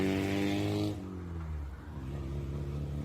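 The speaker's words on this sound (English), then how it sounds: "We hear someone just throttling their motorcycle in the background." A motorcycle engine revs high, then drops back to a lower, uneven idle that rumbles on, heard at a moderate distance in a war zone in Ukraine.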